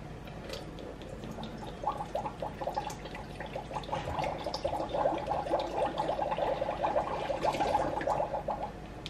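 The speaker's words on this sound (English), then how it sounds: "We are going to start our potion by filling up with water." Water is poured into a Magic Mixies toy cauldron, a close, steady trickling and splashing that builds over several seconds with bubbly gurgles.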